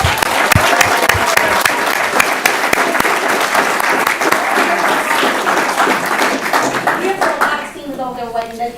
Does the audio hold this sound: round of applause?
yes